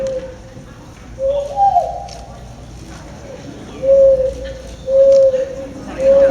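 A man imitates a mourning dove with his voice, giving several low, hollow coos in separate bursts in front of a crowd at a convention, with a faint murmur of the room underneath.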